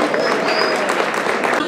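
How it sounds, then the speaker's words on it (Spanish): A dense, steady wash of applause from a gala dinner audience fills the room, loud and continuous, with voices mixed in. "Pues fuerte el aplauso, muy bien."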